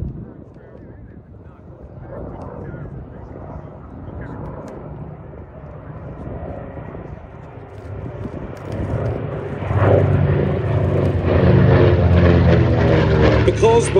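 A twin-engine Mitchell bomber flies at the Sywell airshow, its droning propeller roar building steadily louder and fuller toward the end, with some wind buffeting on the microphone.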